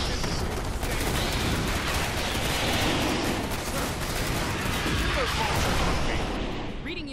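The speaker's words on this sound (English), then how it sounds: "Opening fire!" Troopers open fire in the Starship Troopers: Terran Command game, a dense, continuous rattle of rapid gunfire volleys that stays loud throughout, with voices calling out over it.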